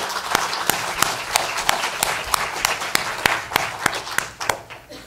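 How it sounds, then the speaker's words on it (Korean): A church congregation in Los Angeles applauding during a Korean sermon, brisk rhythmic clapping in unison with sharp regular beats over a broad bed of scattered hand claps. "이 은혜의 주님께 우리 영광의 박수를 한번 올려드리겠습니다."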